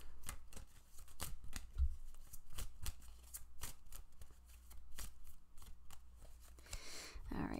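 Tarot cards being shuffled by hand in a quiet room: a run of soft, quick riffling snaps and flicks with steady texture, fairly close and low in level, with no talk over it.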